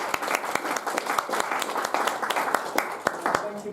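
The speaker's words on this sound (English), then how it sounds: "a round of applause for our distinguished speaker this evening" Audience applause for a guest speaker at an evening legal briefing at a British Chamber of Commerce event, with dense, steady clapping and sharp individual claps standing out, plus a murmur of voices underneath.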